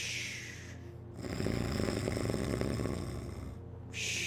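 A person's voice imitating muffled snoring through a door: one drawn-out, low rasping snore of about two seconds, close and moderately loud, set between quieter stretches of room noise.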